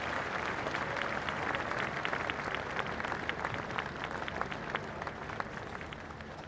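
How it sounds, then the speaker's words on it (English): Outdoor crowd applause at Trooping the Colour for the Platinum Jubilee, faint and distant scattered clapping over a broad open-air rumble, with sharper individual claps popping out here and there. "A big round of applause for all of those taking part."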